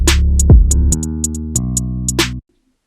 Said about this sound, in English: And then we have the hi-hats, and they sound like this.